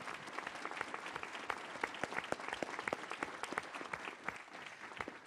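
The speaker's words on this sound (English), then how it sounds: "Let's give him a round of applause, please." An audience applauds Governor Cox at a panel event, dense crisp clapping that carries steadily for several seconds at a fairly soft level, with no one speaking over it.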